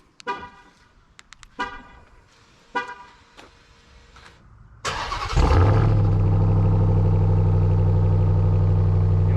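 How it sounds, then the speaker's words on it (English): A few faint beeps and clicks, then a car engine cranks and catches, settling into a loud, steady idle rumble. "So we're gonna do a kind of a cold start"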